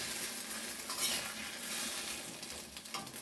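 Egg omelette frying in a pan, a steady close sizzle with faint stirring and the light scrape of utensils against cookware, no voices.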